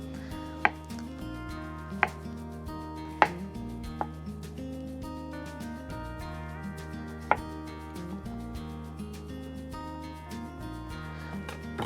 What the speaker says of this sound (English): And I'm gonna just cut up the whole zucchini. So we'll just cut off each end and then just cut them into little rounds like this